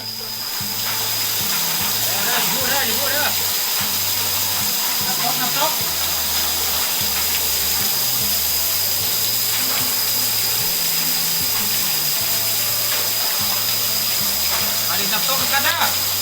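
Waterfall in a mountain nature setting, a steady broadband rushing hiss of falling water that runs unbroken throughout, with a voice talking over it.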